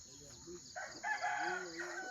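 A rooster crows in a traditional Hmong hill village. The single drawn-out crow is faint and distant over quiet ambient background.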